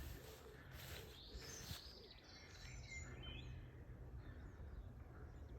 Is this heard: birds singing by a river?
yes